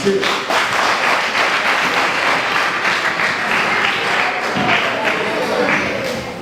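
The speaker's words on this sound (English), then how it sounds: "Give me one applause." Audience applause fills the room, a dense steady wash of many hands clapping at close range, with some voices mixed in.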